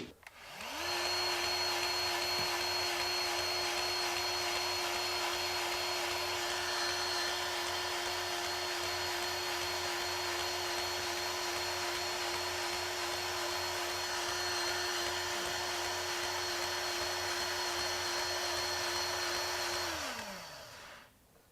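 A RIDGID R860445 18V cordless grease gun set to high speed runs steadily for about twenty seconds, a constant motor whine with a smooth, even tone from start to stop, loud and close with no talking.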